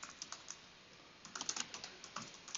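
Code being typed on a computer keyboard, quick bursts of light clicky keystrokes with a brief pause between, close and fairly quiet.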